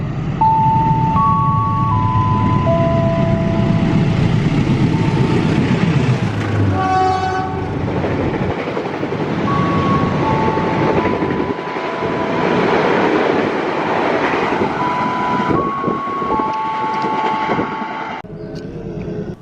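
Matarmaja passenger train passing close by on the rail line, a loud continuous rumble with clattering wheels and a horn sounding in a few sustained tones, steady throughout with no talk.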